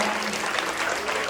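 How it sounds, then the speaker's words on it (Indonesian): An audience claps for a class theatre performance, a short burst of dense, steady applause with no voices over it. "bagi tepuk tangan untuk kelas"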